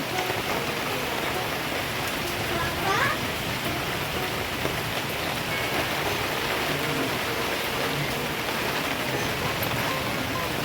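Rain falls steadily at night during a windy storm outdoors, a soft continuous patter and wash with gusty background noise and no clear talking.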